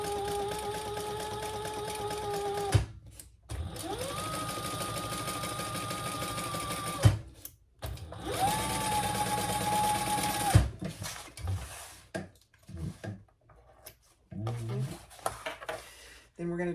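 A sewing machine top-stitches a crossbody bag lining with the seam turned toward the lining, humming steadily in three long runs broken by brief stops, followed by small handling clatter.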